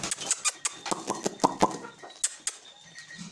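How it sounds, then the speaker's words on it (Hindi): Short clucks and squawks from chickens come in quick bursts, close by, with scattered sharp peaks and no talking. "मुर्गियों को भी मैं बाहर निकाल देता हूँ"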